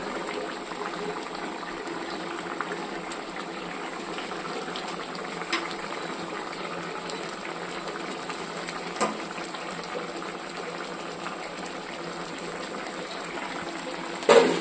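A small-fish curry with potato and eggplant simmers steadily in a pot, a continuous low bubbling boil with a few soft knocks as the small fish go in, and no one speaks.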